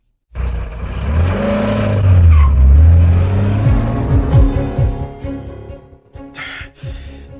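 A car engine starts and revs up loudly, its pitch rising and falling as the vehicle pulls away, with a brief rattle and short thumps near the end.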